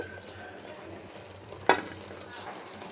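Green chillies dropped into hot spices in a pan while cooking beef bhuna, a steady low sizzle with one sharp crackle as they hit the oil, close and continuous.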